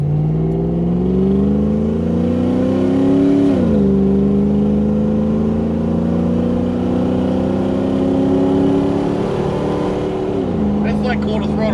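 A Toyota Hilux LN106 with a 1UZ V8 engine and automatic transmission holds a steady quarter-throttle rev. The loud drone stays close, with a couple of brief pitch dips, and faint talk sits beneath it.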